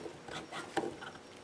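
A screwdriver scrapes and rubs on the housing of a Coleman Powermate 5500 generator, a few faint, short scratchy strokes close by with one sharper click in the middle.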